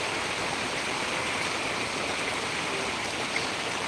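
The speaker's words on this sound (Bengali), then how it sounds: "মোটামুটি দশ মিনিট ধরে চলছে বৃষ্টি" Heavy rain pouring down in the Chandamari area of Cooch Behar, a dense, steady broadband rush of water that stays even and unbroken from start to finish.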